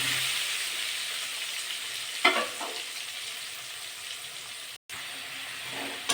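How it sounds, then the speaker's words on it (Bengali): Steady, close sizzle of potatoes with salt and turmeric frying in hot oil, with a brief clatter of stirring partway through; no voices. "আলুগুলো ভালো করে ভাজা করে নেবো"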